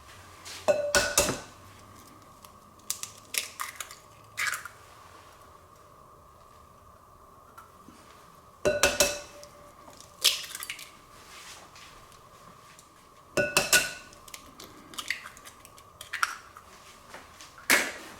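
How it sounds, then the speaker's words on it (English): Eggs cracked into a bowl for pork egg foo young: three sharp clusters of shell taps and clinks against the bowl, each followed by smaller knocks and soft wet sounds, fairly close and clear with no talking. "So I'm going to crack the eggs into this bowl."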